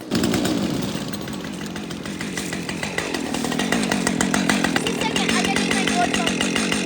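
Computerized chainsaws, one of them a 545, run steadily at close range through a temperature swing. The engine drone is loud and continuous.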